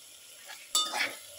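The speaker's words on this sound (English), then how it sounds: "Then we mix." Pepper shrimp and carrots stirred in a pan, a brief close scrape and clatter of the utensil against the pan with a soft sizzle, one short burst after near silence.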